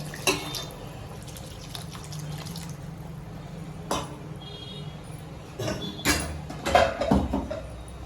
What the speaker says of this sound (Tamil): தேவையான தண்ணி ஊற்றுங்க.